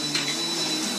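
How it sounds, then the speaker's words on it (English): A household vacuum cleaner whirs with a steady, even motor drone that fills the moment at moderate loudness, with no voices over it. "He turns on the vacuum cleaner"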